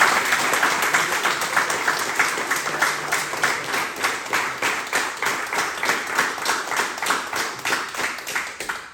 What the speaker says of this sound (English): let's specifically give a round of applause to Royal Grappling for coming